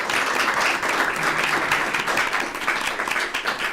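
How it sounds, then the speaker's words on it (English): A conference audience at a Eurovision-themed event gives a steady round of applause, a dense, even wash of clapping that fills the whole stretch. "A big applause for her."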